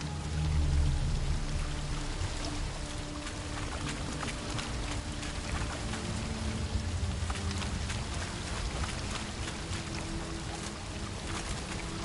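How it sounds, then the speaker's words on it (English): Water rushes continuously from a waterfall flowing upwards in The Witcher 3 video game, a dense, steady roar and splash with no pauses, loud and close throughout. "A waterfall flowing upwards."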